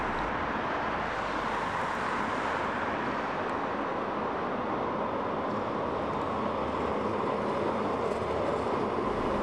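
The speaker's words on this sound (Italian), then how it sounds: "Seguo a piedi il tram per la distanza di una fermata." A Budapest tram, Ganz or Tatra type, rolls along a city street, its steady rumble and wheel noise holding at a constant level throughout without a clear approach or fade.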